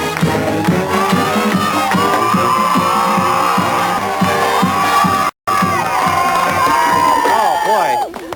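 A young studio crowd at a local TV sports show cheers, whoops and shouts loudly and continuously, with children's high-pitched yells riding over a dense roar; a brief dropout interrupts it near the end.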